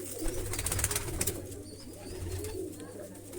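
Pigeons in a loft coo low and steadily, with several overlapping throaty calls heard up close above a constant background hum.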